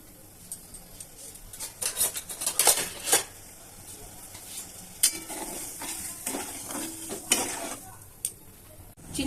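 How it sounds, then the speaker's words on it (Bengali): Sugar syrup boiling in a pot on a gas stove, stirred with a utensil that scrapes and clinks against the metal in irregular bursts over a soft bubbling sizzle, fairly quiet and close. "চিনিটা ভালো করে ফুটে গেছে।"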